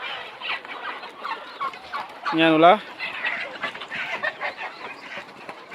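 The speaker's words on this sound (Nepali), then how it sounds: "यो कुखुरा चाहिँ धनकुटा जिल्ला महान लक्ष्मीनगर वार्ड नम्बर 2 मा छ। लोकल कुखुरा छ।" Local chickens on a small farm in Lakshminagar, Dhankuta district, Nepal, give a short burst of loud clucks near the middle, amid a low murmur of farmyard background, with a voice speaking briefly.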